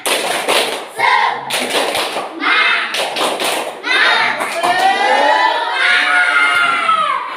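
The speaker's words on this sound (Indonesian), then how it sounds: "Sekali lagi, tepuk semangat." Students standing in an Indonesian classroom repeat a patterned spirit clap, sharp loud claps in rhythmic bursts close by, blended with energetic group chanting and shouts that swell toward the end.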